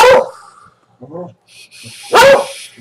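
A dog begging for a treat gives loud close barks at the start and end, with a softer whimpering yip in between and a high whine under the final bark.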